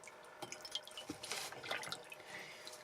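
Water from the bottom of a salad bowl poured out during camp cooking, heard as faint trickling and scattered drips, quiet and close, with no talk.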